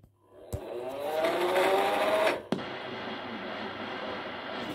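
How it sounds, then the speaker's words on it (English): A faulty BayGen Freeplay wind-up radio motor whirs up quickly to a rising whine, cuts off sharply with a click, then leaves a fainter hum, all close by with no talking. "the motor spun up quite fast"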